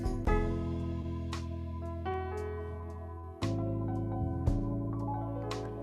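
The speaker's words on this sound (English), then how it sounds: "the patient and I would actually improvise on a keyboard" Improvised gospel-style keyboard playing: rich sustained chords and single melodic notes struck one after another at an unhurried pace, close and alone with no talking.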